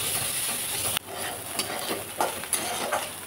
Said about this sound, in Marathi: कारलं आणि कांदा खूप छान असा भाजला गेलेला आहे